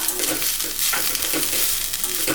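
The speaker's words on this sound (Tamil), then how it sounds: "ரொம்ப வதக்க வேண்டாம், அந்த எண்ணெய் வர அளவுக்கு அந்த ஈரத்தன்மை போனால் போதுங்க தேங்காயில்" Grated coconut sautéing in oil for a brinjal curry, with a dense, steady sizzle and soft rhythmic stirring strokes throughout.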